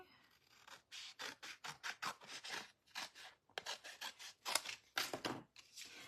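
Card stock is trimmed for a Christmas card, a close, quiet run of short rasping slicing strokes, about a dozen in quick irregular bursts separated by brief pauses, with no voice.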